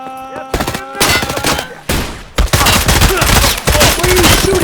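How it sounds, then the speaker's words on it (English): Video game gunfire, dense rapid bursts of automatic shots coming in several loud clusters separated by brief pauses, close and harsh. "Where are you shooting, Dan?"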